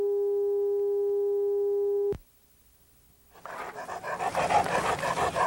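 Severely neglected dogs pant rapidly in a rough, rhythmic series that builds in loudness, following a steady electronic tone that cuts off abruptly and a short pause.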